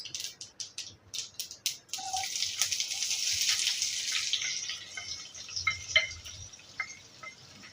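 Mustard seeds and urad dal crackle and splutter in hot oil for a potato curry tempering: a steady, close, hissing sizzle dotted with sharp little pops, with no voice over it.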